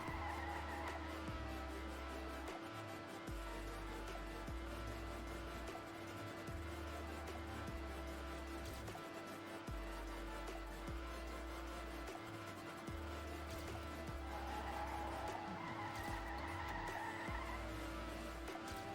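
NASCAR race cars in a video game roar steadily through a long endurance run, with repeated gear-shift steps in the engine note and tire skids and squeals along the way, all close and continuous with no talking over them.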